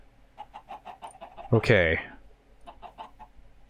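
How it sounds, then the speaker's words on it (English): Minecraft chickens cluck in a quick series of short clucks, then one louder drawn-out squawk, followed by more soft clucking, with a voice speaking briefly. "Chickens are gross."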